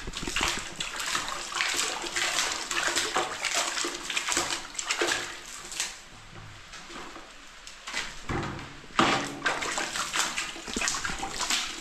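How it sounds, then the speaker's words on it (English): Water sprinkled across the floor of a storage room to settle dust makes splashing, sloshing bursts that come and go, with a few brief knocks and no talking. "So sprinkle this water."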